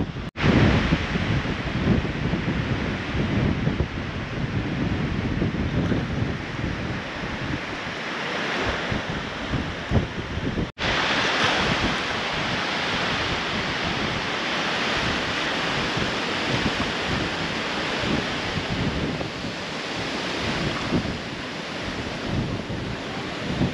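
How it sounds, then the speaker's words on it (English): Waves breaking along the Lake Erie shore at Crystal Beach near a boat ramp, a steady loud surf wash with heavy gusty wind buffeting the microphone throughout, with no voices. "You can tell these waves are just coming out of nowhere right now."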